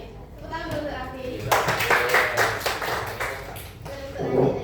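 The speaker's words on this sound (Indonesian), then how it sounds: "Tepuk tangan dulu untuk Raffi." Classroom students clap for a classmate at the front, a short burst of many hands in the middle of the moment, fairly close, with a teacher's voice and children talking before and after.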